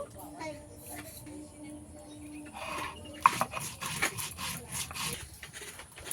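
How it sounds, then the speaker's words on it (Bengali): Cumin is ground into a fine paste on a grinding stone, making a steady rough rubbing and scraping, faint at first and then louder with quick repeated strokes, under a voice speaking. "সব শেষে অল্প একটু জিরে বেটে নেব।"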